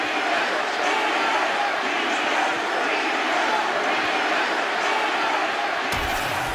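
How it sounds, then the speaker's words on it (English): Arena crowd in the EA Sports UFC 6 video game roars with steady, dense cheering and applause after a round of a Nate Diaz vs Chris Curtis bout, loud and continuous, cutting off abruptly near the end. "So the crowd voicing its appreciation after that round."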